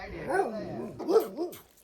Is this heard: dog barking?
yes